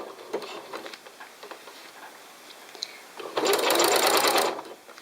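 Sewing machine stitching close along a seam line: soft handling rustles, then a loud, fast, steady run of needle clatter lasting about a second before stopping.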